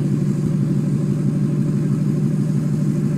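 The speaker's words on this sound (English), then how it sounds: "really big muffler that makes a lot of noise" A new lifted pickup truck rumbles steadily through a big, loud muffler, its deep low engine drone holding constant and close without pause or talk.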